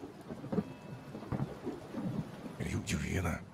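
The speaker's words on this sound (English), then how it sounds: "I'm hearing rain and thunder." Low rumbling thunder rolls under steady rain in the video game Red Dead Redemption, with a brighter crackling burst near the end; faint voices murmur underneath.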